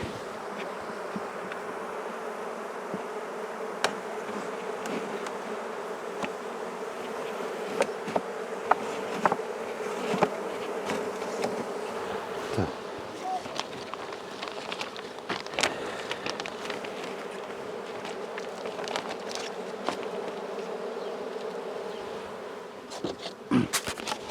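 Honeybees drone steadily in a dense, continuous buzz close around a hive being repacked, with scattered sharper passes and faint handling noises but no talk.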